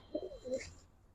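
A male Narayanmoni high-flyer pigeon gives a single short, close coo, soft and throaty, with only faint background noise around it.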